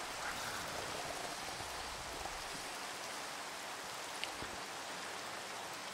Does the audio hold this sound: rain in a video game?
yes